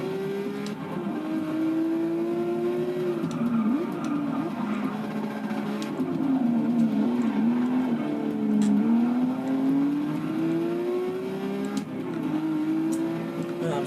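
A Porsche in Forza 6 drives with a steady engine tone that rises and dips through gear changes, with tire squeal in the turns. The sound stays loud and continuous throughout.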